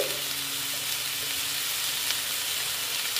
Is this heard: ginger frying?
yes